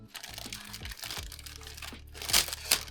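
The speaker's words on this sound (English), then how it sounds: "Sometimes the plastic bag wins the battle." A plastic parts bag from a Hasegawa Lancia Super Delta rally model kit crinkles and crunches up close in short bursts, with two sharper crackles near the end.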